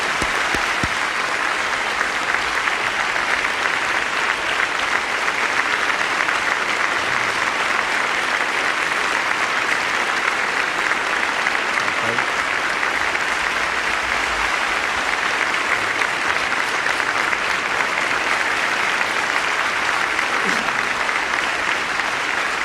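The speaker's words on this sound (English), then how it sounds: "they will applaud as we welcome the two candidates, Governor Bush and Vice President Gore." A debate audience claps throughout as Governor Bush and Vice President Gore are welcomed at a presidential debate, a steady, even wash of applause from a large crowd with no talk over it.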